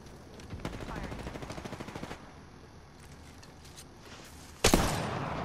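Automatic weapon fire in Apex Legends, with a fast, steady string of shots for about two seconds over ambient game noise, then quieter movement and a loud burst near the end.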